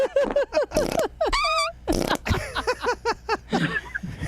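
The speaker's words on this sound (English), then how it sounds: "So many different fart sounds." Rapid string of comedic fart sound effects, mostly wet and squeaky bursts with a few tonal, pitch-bending blats, played loud and close during a live comedy podcast stream.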